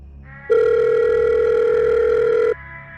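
A telephone dial tone in a Minecraft horror game, a steady electronic hum lasting about two seconds before cutting off abruptly, with no talk.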